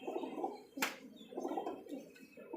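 A pigeon coos softly in repeated low rolling phrases, close by, with one brief sharp noise partway through.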